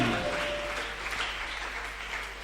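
Congregation applauding during a church service, a steady wash of clapping that fills the clip evenly from start to finish at moderate loudness, with no voices standing out above it.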